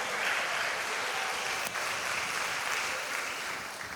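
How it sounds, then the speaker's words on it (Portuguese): Church congregation applauding during a Baptist communion service, a dense, steady wash of clapping that fills the whole stretch at even loudness and tapers slightly at the end, with no voices standing out. "Aplauda o Senhor, dê um brado de vitória."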